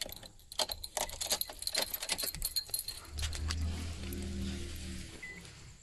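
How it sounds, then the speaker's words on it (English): Car keys jingle close by as they are handled and slid into the ignition of a 2015 Nissan Rogue, a flurry of bright metallic clinks followed by a low steady rumble. "I'm putting my keys in."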